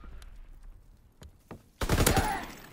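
Gunfire in a hardcore Search and Destroy match of Call of Duty WW2: sparse, faint shots at first, then a sudden loud, close burst of rapid fire that fills the final second.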